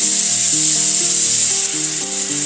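Beef cut into 1.5-inch cubes browns in a hot pan for beef bourguignon, giving a steady, loud, close sizzle throughout, with soft music underneath.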